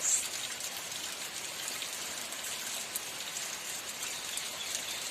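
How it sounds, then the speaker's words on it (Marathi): Steady rain pours down continuously, a dense even patter of drops on surfaces with no voices, holding constant throughout. "आणि गावाकडे पाऊस पडायला लागला"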